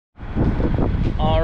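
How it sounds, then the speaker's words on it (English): Strong wind buffeting the microphone in a loud, rumbling gust that starts abruptly and holds, with a faint tonal hum near the end. "it's really windy"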